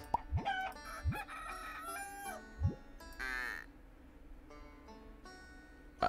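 Chickens in the farming game Cornucopia cluck and a rooster crows once, with short clucks and sharp calls spaced across a quiet background, clear and close.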